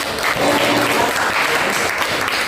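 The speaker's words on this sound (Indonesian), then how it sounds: "Beri tepuk tangan dulu untuk Murni." A classroom audience claps together in steady, dense applause that fills the whole stretch at a fairly loud, even level, with no voices standing out.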